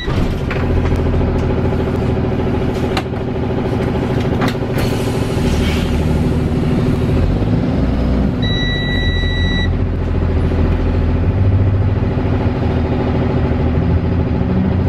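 Diesel engine of a Saf-T-Liner C2 school bus starts and runs at a steady, loud idle from inside the cab, a rumbling drone with a brief high electronic beep partway through.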